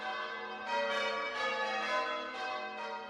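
Town church bells ring out as heard over a BBC radio broadcast, a sustained, overlapping peal with several strikes swelling and fading, moderately loud and without speech.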